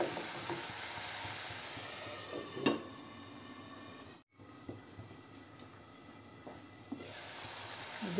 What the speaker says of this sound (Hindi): थोड़ा ढक के भून लेंगे इसको ताकि टमाटर हमारे जल्दी से गल जाएं।